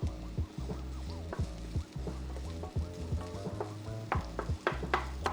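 Onions frying in oil in a pan, with quiet sizzling under repeated stirring and scraping strokes that clatter in an uneven rhythm, close and fairly soft, without speech.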